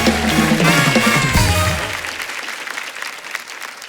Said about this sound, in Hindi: जोरदार तालियां हो जाए एक बार इनके लिए।